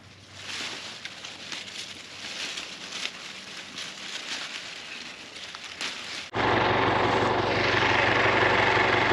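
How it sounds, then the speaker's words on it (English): A tractor pulling a mower idles and runs steadily while mowing off a strawberry field, then the engine noise swells suddenly louder and nearer partway through, a constant close drone to the end. "I came up here with the tractor and mower to start mowing off our strawberries"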